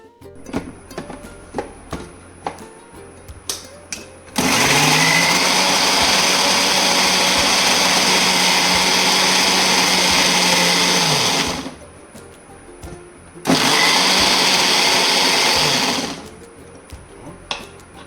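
A loud mixer grinder whirs steadily for several seconds, grinding tomato pickle ingredients, stops briefly, then runs again in a second shorter burst, with quiet clinks before it.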